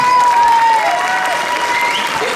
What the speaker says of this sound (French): On peut applaudir la convention pour ça, quand même.